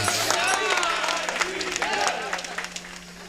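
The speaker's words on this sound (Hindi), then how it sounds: "सभी जोरदार ताली बजाएंगे एक बार सभी के लिए" An audience at a village religious storytelling farewell ceremony claps steadily, a dense patter of many hands mixed with crowd noise, while a voice speaks over it.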